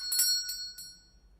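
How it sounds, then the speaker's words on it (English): A bell sound effect played from a cue rings about three times in quick succession, bright and clear, then fades quickly into silence without any voices. "now I'm going to roll the bell and then the fade cue really shortly after"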